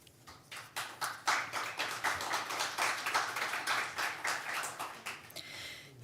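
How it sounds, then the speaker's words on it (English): Audience at a poetry night claps after a reading, a fairly sparse crowd whose individual hand claps stay distinct, building quickly, holding steady, then thinning out over about six seconds. "once you start applauding like that"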